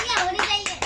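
Several people clap their hands in short bursts at a family game of lifting glasses to reveal money, with children's voices and talk mixed in close by.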